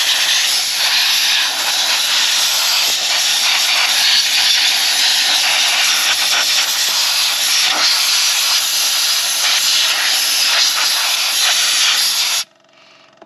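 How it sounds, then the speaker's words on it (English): Compressed air blasts diesel off a CAV injector pump in a steady, loud, close hiss that holds for about twelve seconds, then cuts off abruptly. "we'll just give it a quick blow down with compressed air to get all the diesel off"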